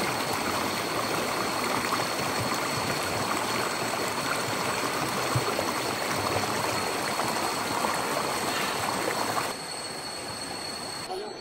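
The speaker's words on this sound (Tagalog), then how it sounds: "ang mahigit isang oras ay narating na natin ang ilog" Mountain river on Mount Guiting-Guiting flowing steadily as a broad, continuous rush of water, close and fairly loud, easing slightly near the end.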